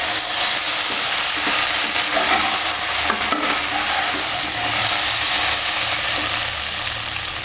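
Four green chillies fry in a pan of soybean and potato curry, giving a steady close sizzle with repeated scraping and stirring strokes throughout.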